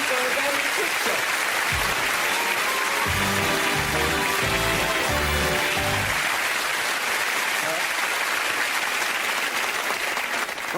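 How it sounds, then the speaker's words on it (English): A studio audience applauds snooker player Dean O'Kane on a game show, the clapping loud and sustained from start to finish while a voice speaks over it partway through. "Dean, ladies and gentlemen, give him a round of applause"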